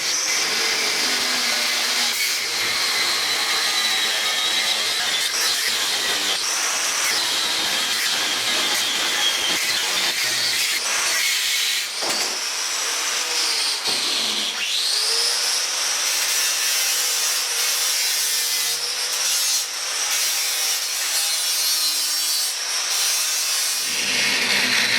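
A steel bracket for a Suzuki Hayabusa motorcycle oil cooler is cut in a garage workshop, giving a continuous loud, harsh sawing rasp with steady strokes and brief pauses near the middle, alone without talk.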